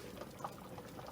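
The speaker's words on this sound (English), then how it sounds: "Let it go ahead and, slowly simmer." Ital vegetable soup with ground provisions simmers in a pot, giving soft, faint bubbling and gentle liquid burbles with no voices.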